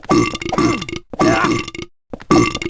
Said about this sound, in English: For some reason, they keep burping as they slide down the stairs.